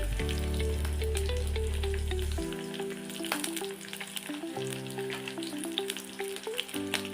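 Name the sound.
garlic, green chillies and onions frying in oil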